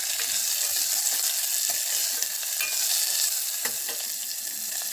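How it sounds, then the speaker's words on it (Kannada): Potato and onion frying in a pan for potato bhaat, a steady loud sizzle close by with occasional stirring scrapes and clinks throughout. "ನೋಡಿ, ಈಗ ಇದಕ್ಕೆ ಪೊಟ್ಯಾಟೊ ಹಾಕ್ತಾಯಿದ್ದೀನಿ, ಈರುಳ್ಳಿ ಹಾಕ್ತಾಯಿದ್ದೀನಿ"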